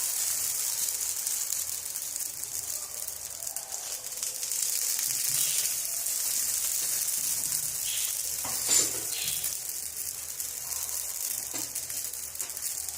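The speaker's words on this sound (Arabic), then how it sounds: "كنخليوه واحد شويه في المقله وتنقلبوه" Msemen flatbread frying in a little oil in a pan, a steady close sizzle and hiss throughout with faint scrapes and one brief knock, no voices.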